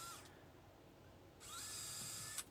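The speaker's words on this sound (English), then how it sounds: "I'm just drilling the brackets in. Putting 2 screws in each one." Power drill driving screws into brackets for cordless cellular window shades, a steady close whine that starts in the second half and runs to the end, after a brief earlier burst.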